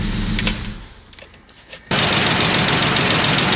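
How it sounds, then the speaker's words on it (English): A Volvo 850 engine runs, briefly drops, then settles into a loud, steady idle with a dense, even rumble and no talk. "Okay, so she's sitting here idling."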